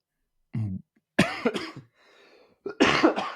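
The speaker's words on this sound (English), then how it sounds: "I got terrible cough still" A person getting over an illness coughs several times in rough, close bursts separated by short pauses, with a quiet rasp between them.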